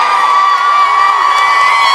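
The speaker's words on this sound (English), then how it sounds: "their crowd is right behind us. Cheering nice and loud for their team" A dense, loud crowd at a high school competitive dance meet cheers continuously for its team, a sustained wall of shouts and whoops with no break.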